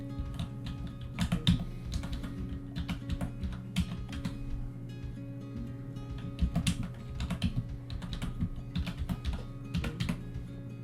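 Someone types a password on a QWERTY computer keyboard, a steady run of close, light key clicks with short pauses and a low background hum.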